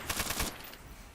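Short burst from a Type 99 machine gun in a video game: a rapid string of about five loud shots, followed by a fading tail.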